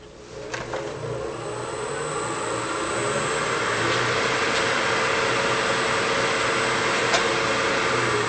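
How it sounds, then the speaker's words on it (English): Wood lathe spinning at 2000 RPM as a skew chisel levels off a simple turned piece such as a bottle stopper, a steady broadband whir with a high constant whine and occasional light ticks, rising slightly then holding even throughout. "I'm going to just take my skew chisel and level this off."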